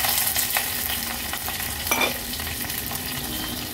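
Mustard seeds, cumin, curry leaves, dried red chilli, garlic and green chilli crackle in hot ghee for a Konkani-style tempering: a steady close sizzle scattered with sharp popping bursts, with no talking.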